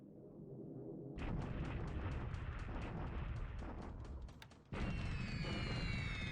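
Bombing raid explosions on Rangoon in the strategy game War in the Pacific: a dense, continuous barrage of booming blasts and crackling bursts, loud and steady, with a short dip before a fresh wave of detonations.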